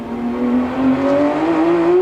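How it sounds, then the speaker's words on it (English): Race car accelerating hard out of the Suncorp turn in a season-closing motorsport event, engine note rising steadily in pitch through the gears, loud and close throughout. "You can really hear the way the car puts its power to the road"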